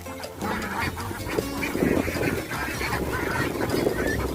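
Ducks quacking in a steady, busy chorus, close by in a duck coop, with overlapping calls and some background rustle; no talking.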